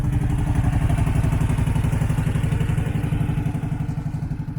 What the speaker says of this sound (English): Chumley and I are at full throttle in Clacton, St Osyth Road.